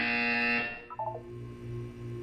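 Buzzer in the video game Portal 2, a loud harsh buzz that sounds briefly and cuts off, followed by short electronic tones and a low pulsing hum.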